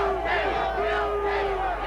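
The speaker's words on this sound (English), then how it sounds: "A largely white crowd in a white suburb" A largely white crowd in a suburb shouts together, a loud, dense mass of raised voices sustained throughout with rising and falling swells.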